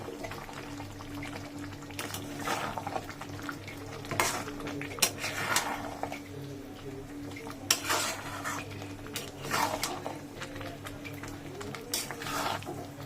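Spoon scraping and clinking in a pot of shahi chicken curry with nuts, repeated stirring strokes in an irregular rhythm over a low steady hum, close and moderately loud.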